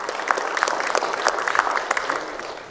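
Applause from an audience at a Manitoba chiefs' assembly on education and family matters, greeting a First Nations chief; a modest spread of scattered clapping holds steady for a few seconds with a few sharper claps standing out.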